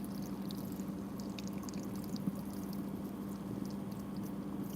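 Clear water flushing through a 3D house-printing machine at an outdoor build site, a steady, even pouring rush that runs unbroken for the whole stretch with a low hum beneath.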